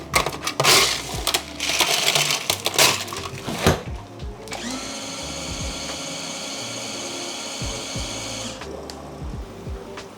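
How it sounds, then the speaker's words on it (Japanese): Carbonation machine in a craft cola workshop mixing water with CO2 gas, giving a steady mechanical hiss and hum for several seconds after clattering handling noises at the start. "ここで水と炭酸ガスを混ぜ合わせて、でここから出ます。"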